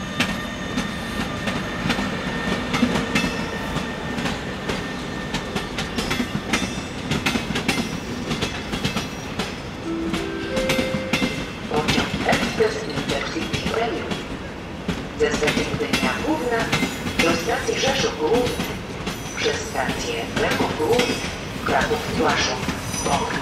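An EU47 electric locomotive-hauled train pulls out of Warsaw West station with a steady loud rumble, rhythmic clickety-clack of wheels over rail joints and occasional wheel squeal, rising in intensity as it rolls away.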